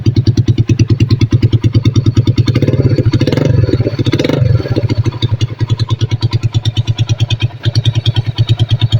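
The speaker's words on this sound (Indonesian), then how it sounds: "Oke, lumayan halus ya mesin ini." A rebuilt Honda GL Max Neotec motorcycle engine runs close up with a loud, steady rapid putter, its rhythm briefly blurring with a short rev before settling back to an even idle.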